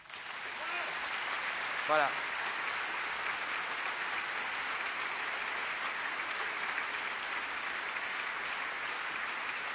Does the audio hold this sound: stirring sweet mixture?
no